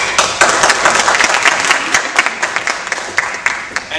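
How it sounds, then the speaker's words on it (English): A debate audience breaks into loud, dense applause, many hands clapping at once in a continuous wash with sharper claps standing out, close and steady from start to finish. "please applaud"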